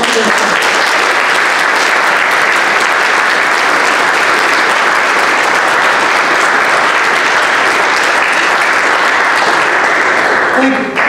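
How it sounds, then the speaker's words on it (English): An audience at a military academy Veterans Day program breaks into loud, sustained applause honoring veterans. The clapping stays dense and even for about eleven seconds before cutting off. "And let's give them a round of applause."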